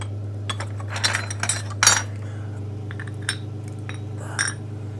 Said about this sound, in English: you hear it clinking around and stuff. This junk's glass.